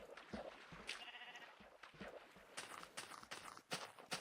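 Sheep in Minecraft give a few faint bleats mixed with soft clip-clop footsteps and other game sounds.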